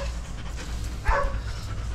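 A Belgian Malinois at a kennel in Tondo, Manila gives a single short close bark about midway, over a steady low background hum.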